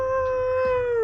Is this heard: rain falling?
no